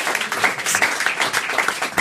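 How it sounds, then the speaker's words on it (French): A studio audience claps for a TV talk show guest, a brief burst of dense, even applause heard close. "On vous applaudit, on vous remercie, Jean-François Derek."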